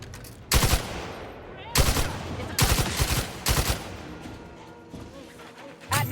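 A powerful gun fires in Outer Worlds 2, four loud heavy bursts of shots about a second apart, each with a booming tail, then a fifth begins at the end.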